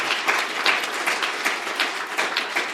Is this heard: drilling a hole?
no